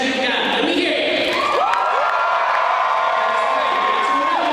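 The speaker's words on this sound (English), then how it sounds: "I want you to give them as loud a cheer as you got." Audience at a cosplay contest cheering and whooping loudly, a dense and steady wall of crowd noise lasting the whole stretch, with a few shouted voices standing out above it.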